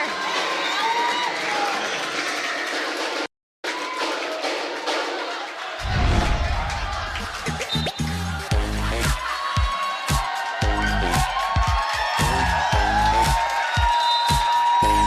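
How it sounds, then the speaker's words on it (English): Adamson fans in the crowd at a collegiate men's volleyball match, FEU against Adamson, raising a loud, sustained roar of cheering and rhythmic chanting with drumming, after a brief silence. "Adamson crowd is energetic as ever."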